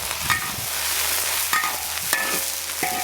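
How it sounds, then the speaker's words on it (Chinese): Meat stir-frying in a wok after cooking wine is added, with a steady close sizzle and a few sharp spatula scrapes and clanks against the pan. "把料酒的味炒出来啊"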